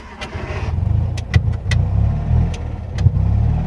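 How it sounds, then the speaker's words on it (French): A 1962 Fiat 500 drives along, its small engine putting out a steady low rumble with slight surges, with a few sharp clicks and knocks from inside the cabin. "Là, c'est une Fiat 500 de 1962."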